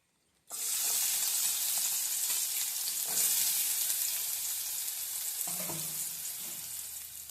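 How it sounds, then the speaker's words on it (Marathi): Onion hits hot oil in a tempering pan and sets off a loud, steady sizzle that holds without a break. A couple of soft stirring clinks sound near the start and again later. "कांदा असं छान परतून घेऊया"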